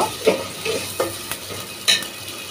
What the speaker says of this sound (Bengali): এখন আমি পেঁয়াজ আর রসুন আদা এটা গন্ধ যাওয়া পর্যন্ত একটু ভেজে নেব।